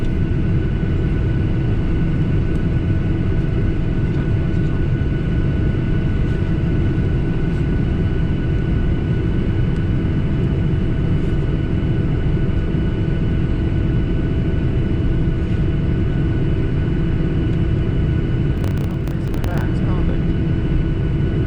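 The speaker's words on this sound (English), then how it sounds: "As we taxi out, you can feel the crosswinds blowing against the aircraft." Cabin of a Norwegian Boeing 737-800 taxiing out at Stockholm Arlanda on a gusty night: a loud, steady engine and airframe rumble with a faint whine, continuous throughout, with a short clatter near the end.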